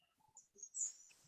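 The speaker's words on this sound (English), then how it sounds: "Here's a new house bird. Here's a new wren," A house wren singing at a lodge in Costa Rica, a brief run of high thin chirps and trills rising into a sharper bright note, faint and somewhat distant with no talking.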